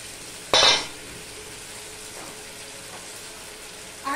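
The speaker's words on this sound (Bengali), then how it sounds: "এবার এর মধ্যে আমি এই ভেজে রাখা বড়িগুলো দিয়ে দিলাম" Fried lentil dumplings (bori) are dropped into a ridge gourd curry, giving one short, loud splash and sizzle that fades quickly into a quiet simmering hiss, with a faint clink near the end.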